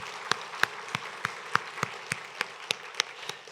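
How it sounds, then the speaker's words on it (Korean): A church congregation claps in unison during a Sunday service, sharp, evenly spaced claps, about three per second, continuing steadily from start to finish. "우리 하나님 앞에 영광의 박수"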